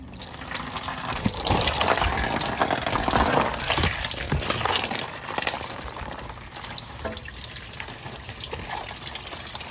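Coolant draining from a Toyota LX450 radiator, a steady close splashing gush of liquid that swells briefly, then settles into a quieter trickling flow, with no talking.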